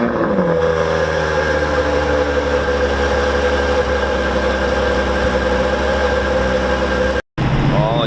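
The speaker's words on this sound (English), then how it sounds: "I bet you this exhaust right here is nasty" A Camaro engine idles loud and close at a cars-and-coffee meet, a steady deep exhaust drone with strong low harmonics, briefly cut by a dropout before resuming.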